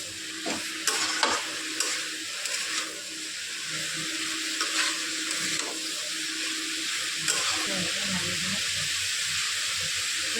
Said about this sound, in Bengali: হলুদ দিয়ে আরও একবার নাড়িয়ে দেবো।